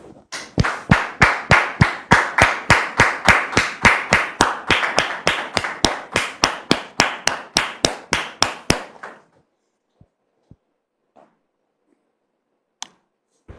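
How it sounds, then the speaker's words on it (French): Audience applause welcoming a guest, heard as a rhythmic run of crisp, evenly spaced claps that beat steadily for about nine seconds and then stop abruptly, leaving near silence with a few faint knocks. "sous vos applaudissements"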